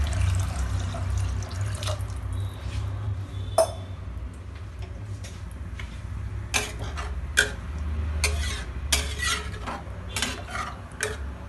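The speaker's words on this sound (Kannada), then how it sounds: "ಸೊ ಎರಡು ಕಪ್ಪಷ್ಟು ನೀರು ಹಾಕಬೇಕು" Water is poured from a jug into a cooking pot for rice over a low kitchen hum, with scattered metallic clinks and knocks from the vessels.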